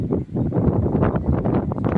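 Strong wind buffets the microphone, a continuous low rumbling roar with gusty fluctuations throughout.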